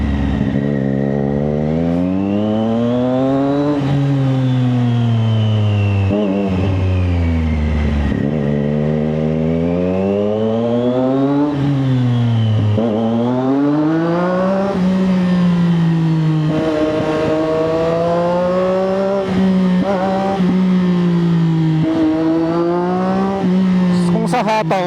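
Triumph Daytona 660 motorcycle engine revs while being ridden, its pitch repeatedly climbing and falling through gear changes. Loud and close throughout, with long rising sweeps and sharp drops between shifts.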